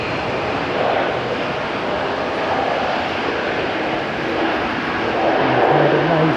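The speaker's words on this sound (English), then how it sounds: "We've had an A321 land." An Airbus A321 landing rumbles with a loud, sustained broadband jet roar that swells slightly toward the end, with a low murmur of nearby talk beneath it.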